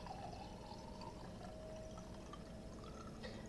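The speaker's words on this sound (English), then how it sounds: "I'm gonna fill the glass all the way up" Wine pouring into a glass being filled right to the top, a steady low liquid gurgle and splash running continuously throughout at moderate, close volume with no talking.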